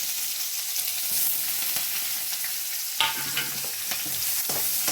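Sliced onions, curry leaves and two dried red chillies sizzle steadily in hot oil in a pan while being stirred, a loud, continuous frying hiss with occasional scrapes and clatters of the spoon.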